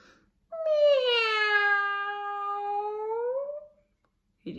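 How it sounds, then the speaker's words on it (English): A cat on a garden wall lets out one long, drawn-out caterwaul, a rising then falling wail lasting about three seconds, close and loud against silence. "That was these cats on the garden wall."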